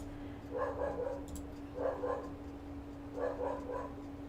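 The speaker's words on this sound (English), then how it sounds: "Sorry, dogs are barking." Dogs bark in three short bursts a second or two apart, somewhat distant, over a steady low hum.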